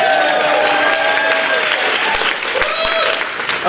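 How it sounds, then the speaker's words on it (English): An audience claps and cheers together, a steady wash of applause with some whoops rising above it. "Mr. Happy, can we have a little round of applause for Mr. Happy?"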